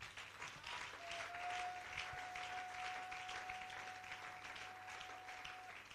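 A church congregation applauds steadily through a Sunday worship service, a dense, even wash of clapping that holds for the whole stretch, with a faint sustained tone running beneath it.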